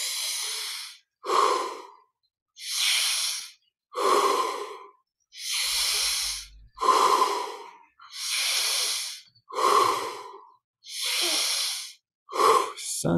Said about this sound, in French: Encore 10 respirations pendant lesquelles on va prendre encore un peu plus d'air à chaque fois